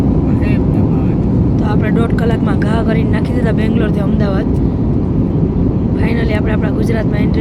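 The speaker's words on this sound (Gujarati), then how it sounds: "ગુજરાતમાં હવે અમારો પ્લેન લેન્ડ થાય છે." An airliner landing at Ahmedabad after a flight from Bangalore, heard from inside the cabin as a loud, steady engine and airflow roar throughout, with a voice talking over it.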